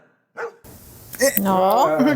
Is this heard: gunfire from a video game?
no